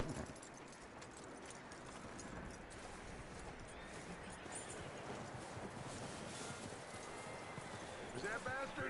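Horse hooves clip-clop steadily at a walk in Red Dead Redemption 2, faint and continuous under a quiet ambient game background.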